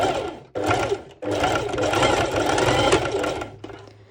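A sewing machine stitches a bikini top in loud, close, rapid runs, stopping briefly twice and then slowing and fading near the end.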